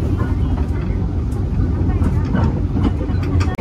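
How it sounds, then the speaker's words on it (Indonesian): Interior of a moving KA Cikuray passenger train on the Garut–Jakarta line, a full carriage with a steady loud low rumble throughout and a murmur of passengers talking underneath. "Ini adalah suasana di dalam kereta, penumpang KA Cikuray hari ini cukup penuh."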